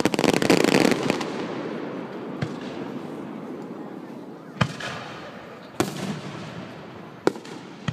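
Fireworks bursting outdoors: a loud crackling barrage at the start, then four sharp, separate bangs spaced a second or more apart over a steady low rumble of the crowd.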